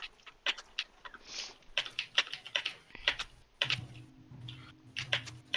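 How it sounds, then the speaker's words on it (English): A clacky computer keyboard clatters in quick, irregular bursts of crisp keystrokes, close and loud, with short pauses between runs and a faint low hum underneath. "I'm like getting the full effect of my clacky keyboard now"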